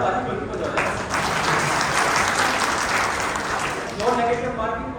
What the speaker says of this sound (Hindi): हाँ अब बजाओ ताली,